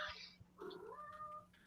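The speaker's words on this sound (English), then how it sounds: "Oh my god, I hear kitties." A cat gives a few soft meows in quick succession, faint and close, with no talk over it.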